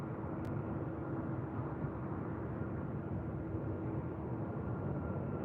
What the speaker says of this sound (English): Cayman Airways heading to Georgetown. Next takeoff.